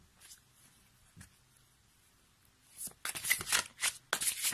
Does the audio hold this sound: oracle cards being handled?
yes